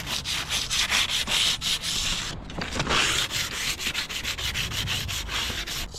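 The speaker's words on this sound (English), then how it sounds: "Just give that a light sanding." Rapid, rhythmic scraping of sandpaper rubbing back and forth over a hard aluminium edge on a camper, steady and close, with a brief pause midway.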